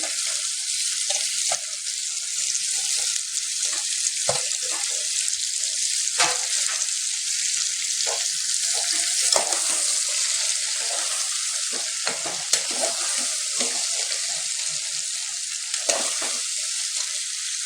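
Cut potatoes frying in a pan for aloo masala, a steady bright sizzle running throughout, broken by scraping stirs of a spoon against the pan at irregular intervals.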